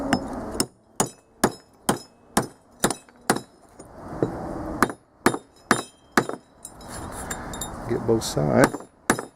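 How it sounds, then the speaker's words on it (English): A hammer strikes a rippled homemade stainless steel flat washer about fifteen times, each blow a sharp, loud metallic clank in a steady rhythm, with brief speech partway through and scraping handling noise near the end. "You just take a hammer"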